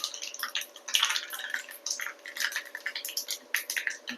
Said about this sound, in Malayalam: കടുക് നന്നായി പൊട്ടി